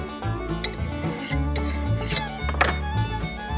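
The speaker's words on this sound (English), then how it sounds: "we'll take a mill file, and let's flat file across this machine surface" A mill file is drawn flat across the machined surface of a 1939 Ford transmission, giving steady rasping strokes in a repeating rhythm, close and clear with no talk.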